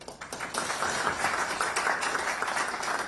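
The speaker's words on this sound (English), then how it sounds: "So round of applause, Mike." An audience at an event presentation in Las Vegas claps together, the applause swelling quickly and holding as a steady, moderately loud patter of many hands.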